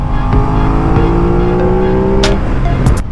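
An Aprilia RS660 motorcycle engine hums steadily under throttle while riding, close and loud under heavy wind rush, with the pitch stepping slightly and a couple of brief clicks near the end.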